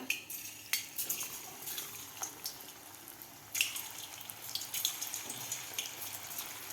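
Coated chickpeas drop into hot oil for deep frying, giving a steady close sizzle with sharper crackles and a few clinks of a utensil throughout.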